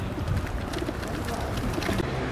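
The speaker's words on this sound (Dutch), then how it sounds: "Geef aan vogels." Pigeons coo while being fed bread outdoors, repeated low throaty calls over steady background noise, moderately close.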